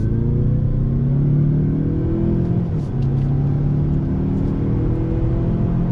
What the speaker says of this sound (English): here we are pulling out again on throttle.